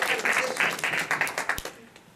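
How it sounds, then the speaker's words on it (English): Audience applause at a public library timeline opening in South Orange, a crowd clapping in a steady patter that tapers off over about two seconds, with some voices mixed in. "Round of applause for you."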